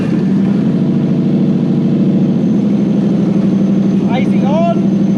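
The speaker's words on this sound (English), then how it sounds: "If I fire the engine and take the AC trigger on and off, you actually hear the engine picking up an RPM and dropping up and down" Toyota 1UZ V8 fitted in a Landcruiser idles steadily and loud throughout, its even low rumble holding without pause, with a brief whistling chirp near the end.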